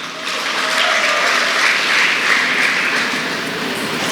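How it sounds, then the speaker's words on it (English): An audience at a college students' farewell day applauds steadily and loudly, a dense even wash of clapping that holds for several seconds with no talk over it. "Really good applause to you."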